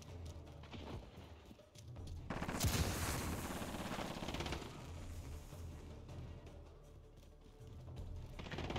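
Video game battle with gunfire and fighting in a lane near a courtyard, dense bursts of shots and explosions filling the scene from about two seconds on, loud and continuous, with no talk over it.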